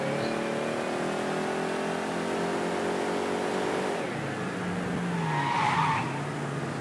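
A car in Mafia 3 accelerating hard with a rising engine drone, then tires skidding and squealing as it slides, loud and close, the engine note dropping away after the skid.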